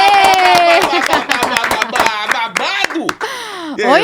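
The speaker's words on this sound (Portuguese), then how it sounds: "Palmas aí pra nossa convidada." Scattered hand claps from a few people in a podcast studio, welcoming a female guest; loose, uneven claps mixed with cheerful voices and laughter over them.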